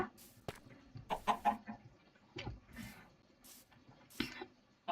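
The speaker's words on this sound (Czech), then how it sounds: "tady takhle tak máme slepice" Chickens in Minecraft cluck in short, irregular bursts, a few sharp calls close by between quieter gaps, with no speech.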